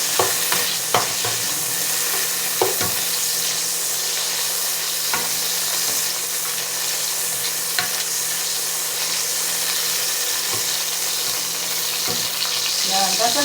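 Chopped tomatoes sizzle steadily in a hot pan as the first step of a sayote and pork dish, with a spatula scraping and knocking against the pan at irregular intervals.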